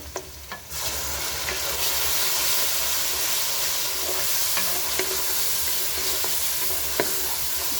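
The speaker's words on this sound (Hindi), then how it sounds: "तो अब हम इसमें डालते हैं जी लहसुन और अदरक का पेस्ट जो है वो हम इसमें डालेंगे" Loud, steady sizzling of garlic and ginger paste frying in hot oil, a continuous close hiss with a few faint clinks of stirring.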